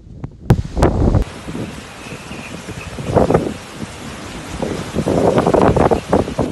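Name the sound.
storm wind gusting on a beach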